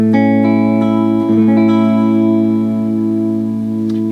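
Monoprice OS40 electric guitar playing a clean tone with light reverb through a Monoprice 15-watt amp and a Celestion external speaker, a sustained ringing chord that carries steadily and loud throughout.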